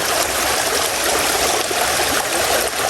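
A flooded river overflowing its dam rushes past a hut in a loud, continuous roar of fast-moving water, close and steady with no break or voices.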